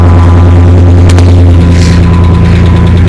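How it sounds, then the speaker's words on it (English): Loud, steady Jeep engine idle with a deep throbbing hum and a faint rhythmic ticking from a worn cam lobe running through it. "see if we can get some of that worn cam lobe noise going on"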